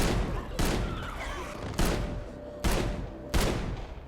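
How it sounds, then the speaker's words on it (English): Several sharp gunshots ring out at irregular intervals in a scene from HBO's The Last of Us, loud and close, each followed by a brief echoing tail. "Gunshots lured another one."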